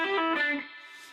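A quick distorted electric guitar lick: a few rapid hammer-on pull-off notes bouncing between pitches, then a short fading tail.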